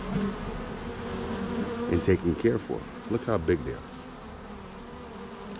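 Honey bees buzz close by around hives in a bee yard, a loose, uneven drone, with a person speaking over the buzzing partway through.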